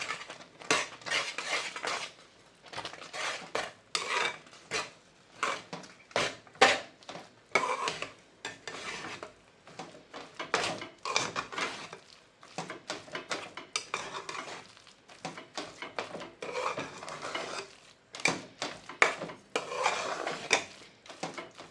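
A spoon scrapes and clinks against a pan while grated green coconut is mixed for a sweet, in repeated irregular strokes over a soft background sizzle, close and fairly loud throughout.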